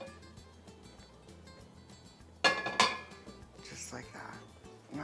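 Oil is swirled in a preheated skillet over medium heat: a couple of sharp metallic clanks and scrapes of the pan midway, then a softer rattle over a quiet kitchen background.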